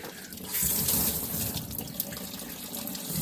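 Water runs steadily from a tap, rinsing out a rock tumbler barrel after a week of agate polishing, with a continuous close splashing rush and a few drips.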